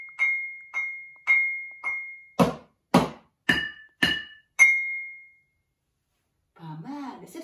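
A cup is tapped gently on its side: eight clear, ringing clinks in a steady rhythm, each fading quickly. The last few ring a little longer, and then a brief voice is heard.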